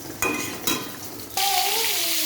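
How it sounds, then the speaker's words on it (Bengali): Steamed cauliflower pieces dropped into hot oil in a pan, with two quick clattering additions followed by a loud, steady sizzle and a faint squeal of utensil or oil, no talking. "এই যে ফুলকপিগুলো ভাজার জন্য দিয়ে দিলাম"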